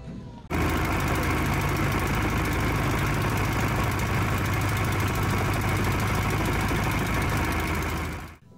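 A small hired trawler boat's engine runs steadily on a wetland lake in Bangladesh, a loud, continuous close-up drone with a rough knocking idle texture that holds for about eight seconds before cutting off.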